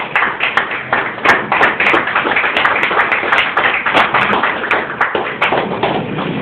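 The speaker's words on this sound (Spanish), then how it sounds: "Denle un aplauso al Rey en esta mañana." Churchgoers at a Spanish-language evangelical service clap quickly and continuously in a steady rhythm, the claps sounding close and slightly muffled, with no speech over them.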